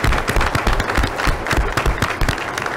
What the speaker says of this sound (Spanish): Un aplauso a ellos